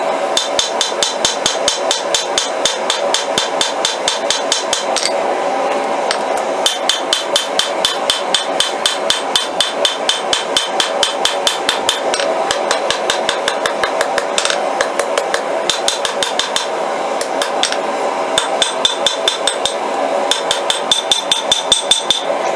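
Steady hammer blows forging a railroad spike into a clip point Bowie knife blade, loud metallic strikes in a fast, regular rhythm with brief pauses between bursts, close up and with no talk.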